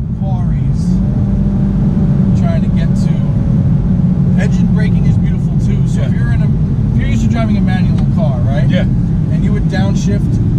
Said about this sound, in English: downshift and rev match.